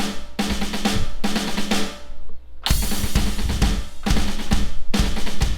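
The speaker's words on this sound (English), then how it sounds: "we're going to add in the bass drum" A fast snare drum roll builds, then stops abruptly, and a loud crash and bass drum hit begin a new roll, with repeated heavy accents.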